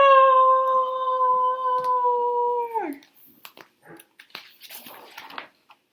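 A voice imitates a lion's loud roar as one long, sustained tone held for about three seconds. It then drops away into faint rustling and near silence.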